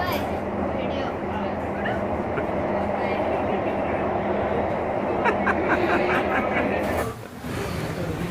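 Steady hum and rumble inside a moving Pune metro train, with voices talking over it; the noise dips briefly near the end.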